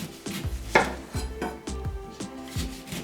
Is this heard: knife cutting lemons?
yes